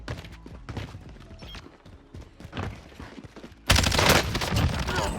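Bullfrog submachine gun fire from Cold War Warzone, a sustained loud burst of rapid automatic shots that erupts suddenly after quieter scattered game noise and low chatter.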